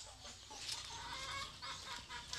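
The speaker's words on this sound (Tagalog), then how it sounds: "Uban nagkakakak na kay mangitlog." Hens cackling in a backyard flock before laying eggs, repeated clucks and calls close by, steady and busy with no talk.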